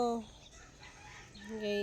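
Chickens cluck and crow, with sharp harmonic calls at the start and end and quieter farmyard sounds between, fairly close and clear.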